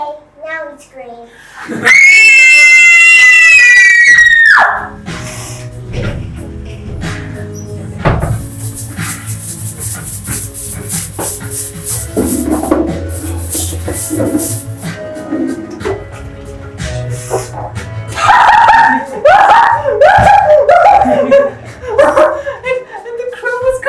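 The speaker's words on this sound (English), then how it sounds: "Okay, now we scream." Actors in an acting class scene let out a loud, piercing scream lasting a few seconds, followed by knocks, laughter and chatter, with more shrill vocal bursts near the end.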